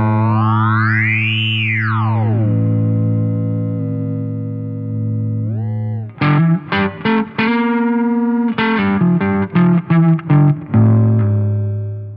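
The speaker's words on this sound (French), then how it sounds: "le ring modulateur fait des effets de folie" An electric guitar runs through the ring modulator effect of a Boss ME-80 multi-effects pedal, giving loud metallic, bell-like tones: a long sustained note with a sweeping pitch, then a run of short clipped chords, with no talk.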